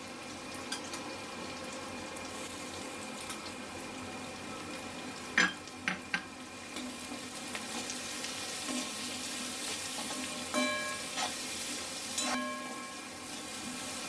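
Cabbage and capsicum sauté in hot oil in a pan, giving a steady soft sizzle throughout with occasional clinks and scrapes of a utensil against the pan.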